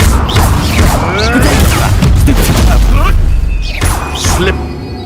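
Combat spellcasting in Hogwarts Legacy, including the Expelliarmus disarming spell, comes as loud booming impacts and whooshing bursts in quick succession, with a voice speaking among them.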